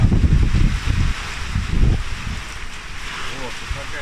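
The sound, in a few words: strong stormy wind outdoors at an apiary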